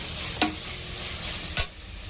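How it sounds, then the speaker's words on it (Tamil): Mint, onion and tomato sauté in a pan for mushroom biryani, a soft continuous sizzle with a couple of sharp spoon scrapes as the mixture is stirred. "இப்போ இதையும் நல்லா வதக்கிடலாம்."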